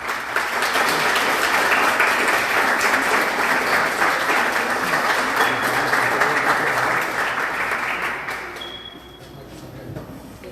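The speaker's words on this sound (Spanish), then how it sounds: "Un fuerte aplauso, por favor." Loud, dense applause from a conference audience at a binational academic symposium, sustained for several seconds before thinning out and fading near the end.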